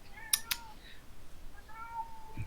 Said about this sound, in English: Can you guys hear my cat yowling?